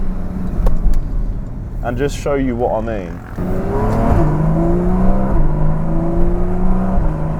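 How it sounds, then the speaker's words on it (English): A Porsche 981 Cayman S driven slowly in traffic below 3,000 rpm, engine note swelling steadily through an early gear change, a close continuous rumble with a person talking over the start. "in traffic, or just going at slow speeds below 3k revs, it still sounds insane"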